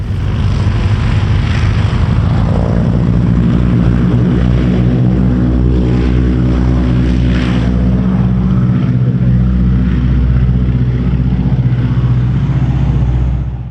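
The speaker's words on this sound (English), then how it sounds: "There was a Ford tri-motor here that you can buy a ride in. We didn't do that, but we did get to watch it take off." A Ford Tri-Motor airplane takes off at an air show, its three propeller engines producing a loud, sustained drone that stays steady and close throughout, with no talking.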